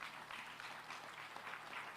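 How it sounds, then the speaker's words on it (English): Applause from an audience at a city leaders' gathering on the sidelines of a climate summit, welcoming a mayor-elect onto the stage; steady, moderately distant clapping for about two seconds without speech. "Let's clap for her as she comes."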